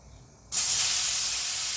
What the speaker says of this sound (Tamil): நீ ஆயிலில் போட்டு ஃப்ரை பண்ணிடலாம்